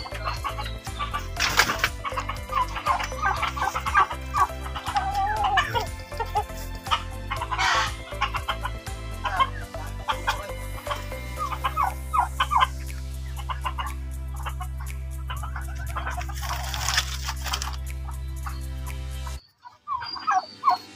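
A large flock of turkeys gobbling together, with overlapping bursts of loud gobbles and clucks close by over a steady low hum, cutting out briefly near the end.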